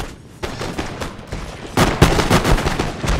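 Line infantry muskets fire in rapid overlapping volleys in Empire: Total War, a sharp cluster of cracks growing louder and denser near the end, with no talk.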